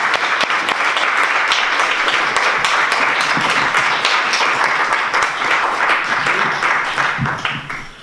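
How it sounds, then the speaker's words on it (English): Listeners at Forward Cambridge 2018 give speaker Paula Lamont a warm round of clapping, loud and continuous, before it tapers off near the end. "Another round of applause."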